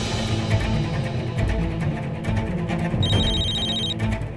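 A telephone rings loudly indoors in a TV drama scene, a sustained electronic trill over busy background music, with no one speaking.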